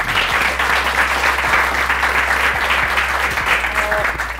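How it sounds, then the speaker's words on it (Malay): Studio audience at an Indonesian talk show breaks into sustained applause, a dense steady wash of clapping lasting the whole stretch with no voices over it. "Tepuk tangan dong."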